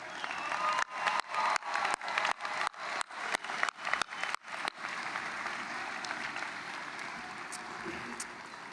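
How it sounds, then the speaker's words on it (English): A crowd applauds honored individuals at a Bowling Green State University summer commencement, with dense, sustained clapping that pulses at first and then settles into a steady wash. "Please join me in a robust round of applause for these individuals."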